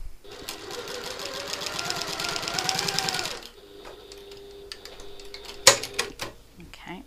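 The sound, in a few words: sewing machine stitching a seam with back stitch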